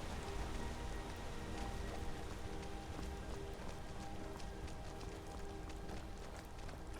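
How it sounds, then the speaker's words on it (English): Steady rain falls in the video game Skyrim along a mountain road near Markarth, a continuous dense patter with a faint rhythmic clopping of hooves or footsteps underneath, heard alone without speech. "will the blasted rain please stop?"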